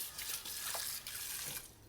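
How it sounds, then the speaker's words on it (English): Stainless steel cookware rinsed under a running kitchen tap: close splashing water in short uneven bursts as the pan moves under the stream, fairly faint. "So give it a rinse."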